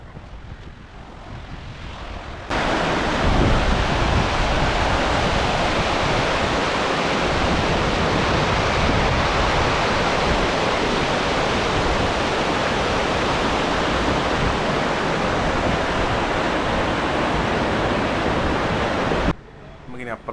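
River water rushes over a bund-like weir in a loud, unbroken roar that starts abruptly after a quieter moment and holds steady before cutting off near the end.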